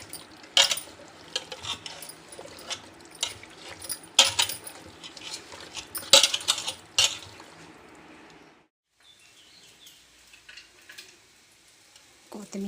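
Chicken biryani marinade is stirred with yogurt in a bowl, giving irregular wet clinks and scrapes of a spoon against the bowl that stop abruptly, followed by near silence and faint rustles.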